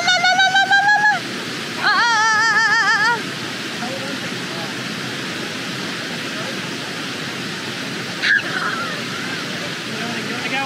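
Josephine Falls pours as a steady broad rush of falling water. Whistling or honking tones cut in briefly at the start, and a sharp knock sounds near the end.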